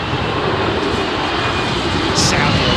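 Saudi Arabian Airlines airliner coming in to land in a crosswind at Heathrow Airport, a steady broad engine roar held at constant loudness throughout, with people talking faintly underneath.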